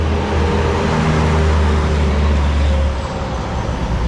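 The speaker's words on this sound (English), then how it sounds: "Because look, it's picking up. You can hear it. Big trucks coming in." Steady heavy traffic roars nearby along a roadway beside the Mississippi River, with big trucks rumbling past in a dense, continuous low drone and no distinct breaks.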